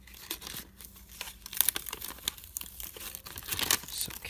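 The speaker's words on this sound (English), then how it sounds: "make sure that you get those edges loosened up before you peel it away" Dried plastic tissue paper being carefully peeled up from its loosened edges, giving soft, irregular crinkling and light tearing rustles in close, quiet bursts with no voices.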